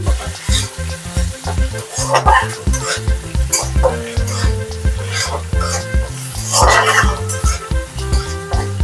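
Poppy seed paste sizzles and crackles steadily in a hot pan while a spoon stirs and scrapes in short repeated strokes, for a vegetarian paneer dish, close and fairly loud with no talking.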